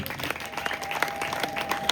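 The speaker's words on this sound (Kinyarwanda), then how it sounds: "Amashyi menshi." Steady applause from a church congregation, many hands clapping continuously with a few sharper claps standing out.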